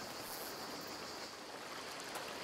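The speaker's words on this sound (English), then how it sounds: "Let's keep following this river." A river flows in the video game A Plague Tale: Requiem, a constant, soft rushing wash of water with no pauses and no voices.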